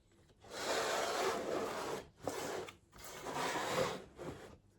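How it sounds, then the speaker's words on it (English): A small hand saw trims the glued binding ends on a guitar body, four close rasping strokes of varying length separated by brief pauses, with no speech. "I'm taking a little saw and I can just trim off these ends"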